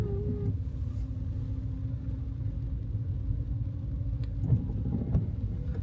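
Cars idling in a queue to board a car ferry in Germany, a steady low rumble of engines close by with no talk, and a couple of brief bumps near the end.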